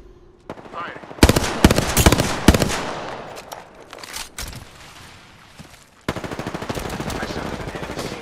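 Rapid automatic gunfire in a video game, with sharp bursts early on and a sustained stream of shots near the end. A player speaks briefly between bursts.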